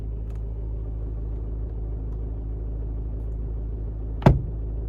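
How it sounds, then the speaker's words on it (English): A single sharp snap of a car sun visor being flipped shut cuts through a steady low engine rumble inside the car. "That's some loud visor shutting"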